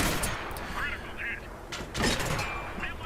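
Tank cannon fire in World of Tanks on console, with a T-127 on the Malinovka map, heard as a few booming shots and cracks amid game noise while someone talks over them.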